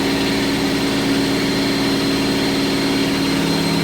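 A Miele W562 Prestige Plus washing machine with an unbalanced load gives a constant, loud droning hum with steady tonal whine, up close and uninterrupted.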